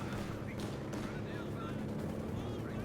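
Artillery barrage in the World War II strategy game Company of Heroes 2, a dense, steady stream of booming impacts and crackling blasts filling the whole stretch at constant loudness, with overlapping shots and no quiet gaps.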